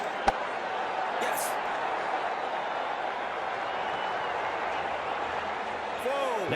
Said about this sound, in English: The crowd has gone mad.